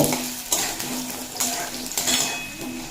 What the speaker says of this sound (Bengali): আলু দিয়ে কয়েক সেকেন্ড নাড়িয়ে নেব